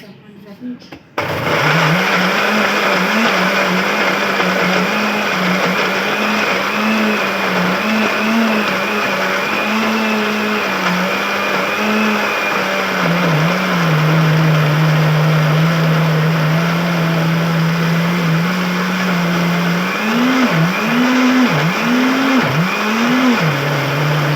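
A kitchen blender starts abruptly and grinds chutney with added water in a loud, continuous whirring drone, its pitch wavering briefly near the end as the load shifts.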